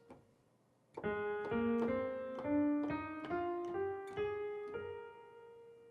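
A piano plays a slow rising sequence of single notes, about ten in a row, the notes of a bagpipe scale, clear and close with no talking.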